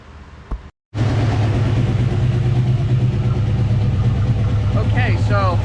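After a short pause, a car engine with a freshly repaired, previously leaky carburetor starts and settles into a steady, even idle, close by, with someone talking over it near the end.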